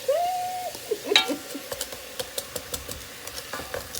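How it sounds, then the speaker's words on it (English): Frozen cut-up peppers are dumped into a pan for beans and rice, giving a short scrape and clatter, followed by faint repeated stirring taps and a soft sizzle. "Then you're going to take your frozen cut up peppers and dump those in there."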